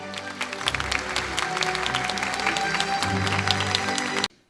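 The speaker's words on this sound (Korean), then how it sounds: "큰 박수 부탁드리겠습니다." A hall audience applauds at a university's 30th anniversary ceremony, sustained dense clapping with steady loudness over background music, ending abruptly.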